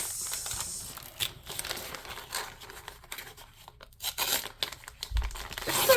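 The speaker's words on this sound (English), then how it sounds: "I'm going to pull the little tab. Make a lot of noise." Cardboard book packaging torn open by pulling its tear tab, a close ripping and crinkling that comes in uneven bursts, with a sharper tear near the end.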